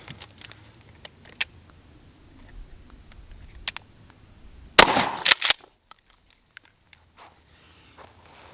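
A Remington 870 shotgun fires a single loud, close blast of number 4 buckshot at a target seven yards away, with a quick echoing tail, surrounded by quiet outdoor shuffling.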